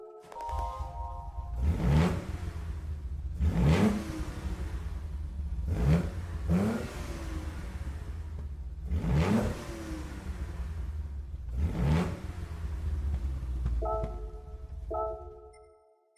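A 6.6-litre Trans Am in Gran Turismo 7 revs repeatedly, about six loud throttle blips rising and falling over a steady idle, with no talk.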